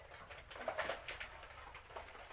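Pigeons in a loft give soft, faint cooing calls, several low murmuring coos in quick succession with no voices.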